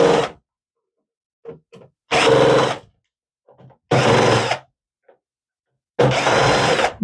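Torx screws being backed out of a Dell PowerEdge R610 1U server with a power driver, four loud, close bursts of whirring, each about half a second to a second long, separated by silence and faint small clicks.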